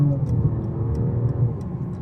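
A 2019 Mercedes CLS450 4Matic in comfort mode rolls over harsh concrete roads, its cabin filled with a steady low road rumble and a few faint ticking taps from the suspension over the seams.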